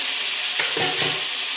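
Fish and masala fry in oil with a loud, close sizzle, while a couple of brief scraping stirs break through the steady hiss.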